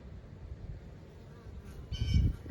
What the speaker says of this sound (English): few bees coming and going